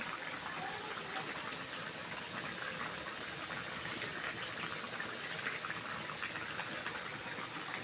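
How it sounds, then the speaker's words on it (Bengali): Fish and eggplant curry steaming in a pot, giving off a steady, fairly soft hiss that runs evenly throughout with no talking. "সবগুলোকে একবারে দিয়ে একটু ভাপিয়ে নিচ্ছে"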